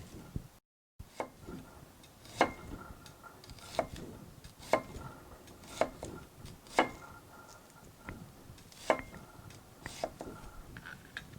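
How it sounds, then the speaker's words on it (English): Knife cutting an onion into vertical quarter-inch slices on a board, giving a series of crisp, evenly spaced chops, close and moderately loud, with no talking. "vertical slices as wide as you want the onions. I'm doing about 1/4 inch."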